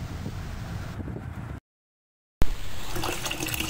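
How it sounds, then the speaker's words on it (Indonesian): Water runs steadily from a tap in a steady hiss, captured during a noise-level measurement, interrupted by a short gap of silence before the flow resumes slightly louder and brighter. "percobaan kelima dan percobaan terakhir ini mengukur tingkat kebisingan pada keran air"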